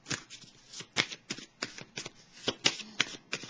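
Tarot cards being shuffled by hand in a quiet room, a rapid series of crisp riffling flicks and soft slaps in an uneven rhythm, close and clear with no talking.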